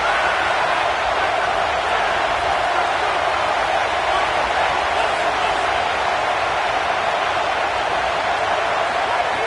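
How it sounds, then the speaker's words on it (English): A packed Ole Miss college football stadium crowd roars in a dense, unbroken wall of noise, loud and constant for the whole stretch. "this crowd is ready"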